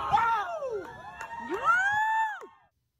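Onlookers whoop and cheer with rising, sliding shouts as a deflated Chinese surveillance balloon falls after an F-22 missile strike off the South Carolina coast. A few loud voices overlap, then stop abruptly near the end.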